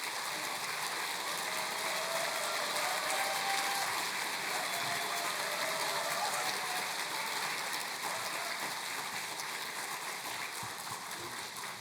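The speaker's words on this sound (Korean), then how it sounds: "우리 큰 박수로 우리 엄기영 목사님 모시도록 하겠습니다" A church congregation at a Sunday service applauds to welcome their pastor to the pulpit, a steady, even wash of clapping that fills the sanctuary for several seconds.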